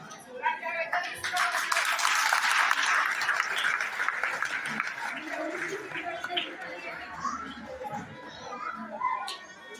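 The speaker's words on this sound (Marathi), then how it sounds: "सगळ्याच मुलींसाठी टाळ्या वाजवा" At a school prize ceremony, an audience of children and adults claps for nursery-class girl winners: a burst of applause that fades into scattered claps, with children's chatter and voices mixed throughout.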